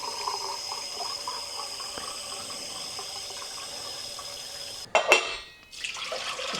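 Tap water running into a 2-cup measuring cup for cooking rice, a steady faint stream that swells into a louder splashing burst near the end.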